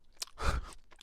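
Blue raspberry candy crunched and chewed close up, a quick burst of wet crunching bites peaking mid-way through about a second of sound, with no talking.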